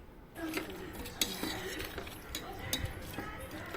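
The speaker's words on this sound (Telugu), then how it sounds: "వాటర్ వేసుకుని మరొకసారి కలిపి" A spoon stirs prawn curry in a pot just after water is added, giving scattered clinks and scrapes against the metal over a soft bubbling background.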